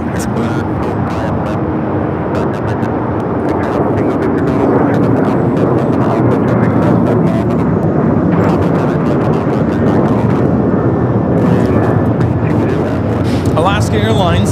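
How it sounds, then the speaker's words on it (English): A Boeing 737-900ER takes off at LAX with a loud, steady jet roar that holds at full strength throughout, broad and dense as it climbs away. "1334 taking off to Belize City on the 737-900ER."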